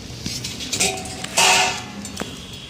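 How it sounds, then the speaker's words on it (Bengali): A metal lid lifted off a pot of vegetables, hilsa fish head and Malabar spinach, with a few sharp metallic clinks and a brief louder scrape, close and without speech. "ঢাকনাটা খুলে দেবো"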